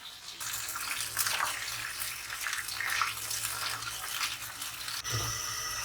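Water is poured into a cooking pot of onions lightly browned with salt for cumin rice, a steady broadband splashing rush that runs continuously and close, with a brief clatter near the end.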